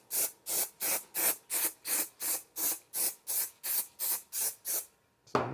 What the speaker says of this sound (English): I'm going to take some of this hairspray that I got from the Dollar Tree. And I'm just going to lightly go over it.